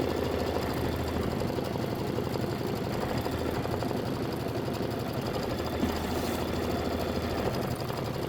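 A sewing machine runs steadily close by as it stitches ribbon onto a Christmas house gift box, giving a continuous rapid mechanical chatter throughout.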